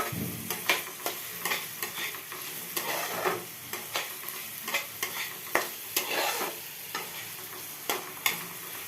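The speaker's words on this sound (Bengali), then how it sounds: "পেঁয়াজ বেশি ভাজার দরকার নেই, পেঁয়াজ একটু এরম করেই ভেজে নিলেই হয়ে যাবে" Onions frying lightly in a pan, a steady sizzle broken by repeated scrape-and-stir strokes at a quick, irregular rhythm, close and fairly loud, with no voices.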